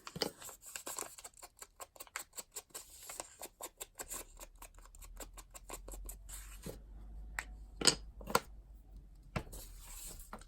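Scissors snip through paper and card material for handmade collage journaling cards, a rapid run of crisp close cuts that slows into a few sparse, louder snips.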